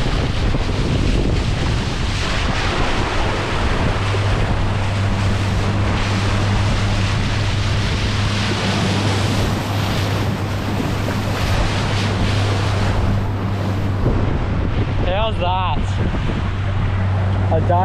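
Choppy sea at Shark Bay, with waves slapping and rushing around a boat and strong wind roaring across the microphone throughout. An engine hum runs underneath, and someone speaks briefly near the end.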